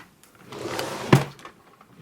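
A vanity drawer holding makeup slides open with a single solid thunk near the middle, close and fairly loud, with soft handling noise around it and no talking.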